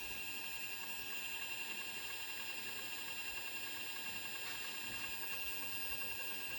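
A Kafatek Monolith Flat coffee grinder's powerful Japanese motor runs with a steady, piercing high-pitched whine over a faint hum, constant throughout with no talking.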